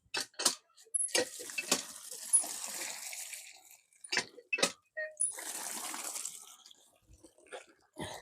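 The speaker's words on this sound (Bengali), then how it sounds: "এখন দেখুন কতটুকু পরিমাণে পানি দেই" Water poured into a container of cattle feed being prepared for fattening cows, coming in several separate splashing bursts with quiet gaps between them, close by and loud.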